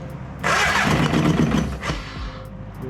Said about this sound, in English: I heard the start of an engine.